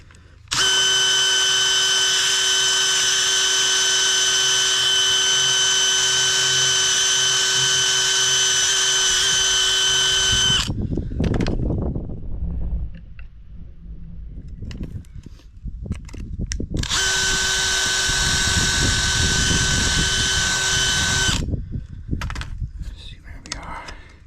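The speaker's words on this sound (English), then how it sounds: "Just need to swap to the stepper drill now." A step drill bit whines steadily in two long bursts, loud and close, with quieter handling noise and low talking in the gap between them.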